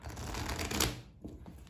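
Tarot cards are riffled and shuffled in a quick, soft papery burst that fades into brief light rustles, close and fairly quiet.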